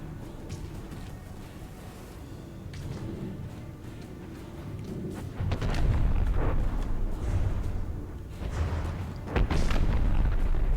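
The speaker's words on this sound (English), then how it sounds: "Big guns on the Ugly, and big guns on the Riviera, too." Pre-dreadnought battleships trading big-gun fire in a naval combat game, several deep booming blasts that swell and roll, with the loudest volleys landing in the second half over a constant rumbling background.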